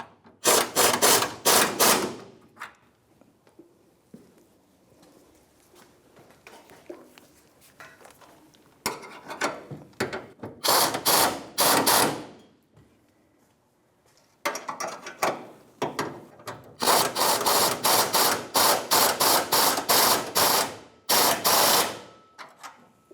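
Ratchet wrench tightening the fuel tank strap bolts under a 1992-1996 Ford F-150, heard as several loud bursts of rapid clicking separated by quieter pauses of shuffling work noise.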